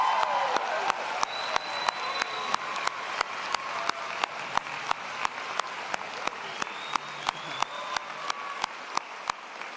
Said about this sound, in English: thanks to the proud parents, friends, and family of our graduates for cheering them on with such love and such warmth